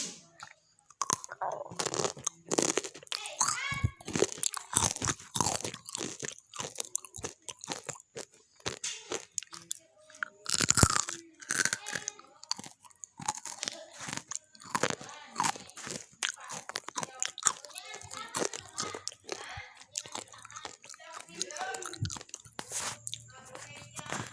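Crunchy fried food dipped in Kentucky-style sauce being bitten and chewed close up, with repeated sharp crackling crunches in an irregular rhythm over about twenty seconds and no talking.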